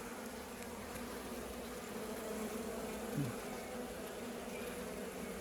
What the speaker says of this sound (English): So plenty of bees.